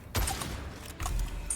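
Combat sounds from the video game Witchfire, a grenade explosion and electric shock: a sharp low-heavy blast, then crackling bursts and a second thump, loud and close, with no talking.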